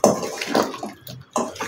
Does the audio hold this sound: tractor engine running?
no